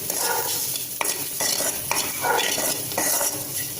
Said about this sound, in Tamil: அப்பப்போ இந்த மாதிரி கிளறி மட்டும் விட்டுருது